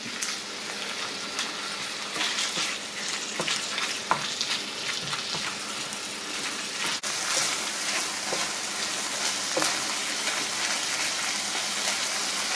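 Beef mince sizzles in a hot oiled pan while a utensil breaks it up, a steady close crackling fry broken by occasional scrapes and taps.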